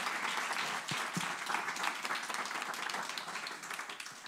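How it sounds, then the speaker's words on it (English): An audience applauds at an evening event, warm continuous clapping at moderate volume that tapers slightly toward the end, with no speech. "Please give her a big round of applause."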